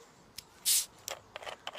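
A short hiss of gas escaping as a home-brewed beer bottle cap is pried off, preceded and followed by faint clicks and small handling noises.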